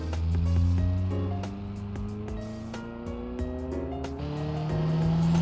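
Race car engine in BeamNG.drive on the East Coast track, revving hard through rising and shifting gears with a steady loud drone and quick clicks of gear changes, close and continuous.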